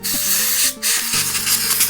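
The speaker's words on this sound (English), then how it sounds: "You can actually just put some spray can, some compressed air" A compressed air spray can blasts short bursts of air into a HyperX keyboard to clean it, making loud close hisses with a brief break in between.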